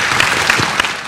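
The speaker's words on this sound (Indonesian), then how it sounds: "Tepuk tangan buat Dokter Hendra dan Irma Darmawangsa." A studio audience at an Indonesian medical talk show claps in a short, lively burst of applause heard close and clear.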